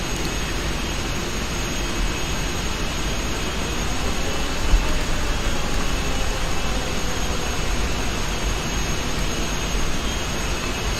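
Cargolux Boeing 747 jet taxiing in the Prepar3D flight simulator, a steady loud engine roar with a deep rumble and high whine, unbroken and alone.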